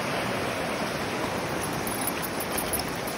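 The Chisone river in an Italian alpine valley flows with a steady, dense rushing roar, continuous and fairly close, with no voices.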